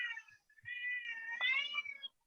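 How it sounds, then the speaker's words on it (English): A cat meows close by in one long, wavering cry that rises and stretches out for about two seconds, clear and alone with no talking over it. "Don't mind my cat. My cat's bugging out right now."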